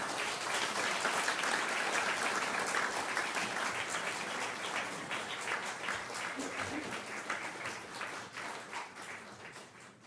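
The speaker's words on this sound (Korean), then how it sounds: "박수" Congregation applauding at a church pastor's installation service, sustained dense clapping that fills the room and tapers slightly toward the end, with voices mixed in.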